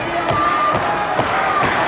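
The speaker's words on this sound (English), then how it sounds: "Fans trying to clap and cheer and rally behind Big Josh here." Wrestling fans at a WCW Main Event clap in a steady rhythmic beat, with a general crowd murmur and scattered cheers rising underneath, heard from within the arena.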